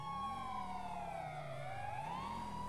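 A police car siren in a GTA roleplay game wails loudly and continuously, its pitch sweeping slowly down and back up with no talking over it.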